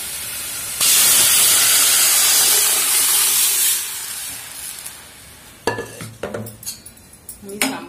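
Sambar being stirred into fried onions in a pan for maskaayi: a loud hissing sizzle bursts up and slowly fades, then utensils scrape and clink against the pan in quick irregular strokes, with no talking.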